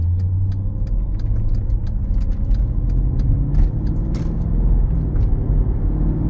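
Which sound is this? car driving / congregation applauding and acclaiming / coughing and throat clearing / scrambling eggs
car driving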